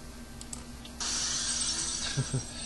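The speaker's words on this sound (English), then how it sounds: "Break glass with gems to get at gems." Glass shatters in the video game Dead Rising 2: a sudden bright crash that holds as a sustained hiss of breaking shards for over a second, followed by a couple of small clinks, with no voices.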